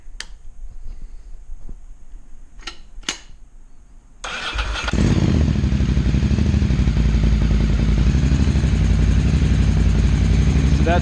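A Ducati 800 Scrambler track bike engine catches after a few faint clicks and taps, then runs steadily and loudly near at a held low throttle.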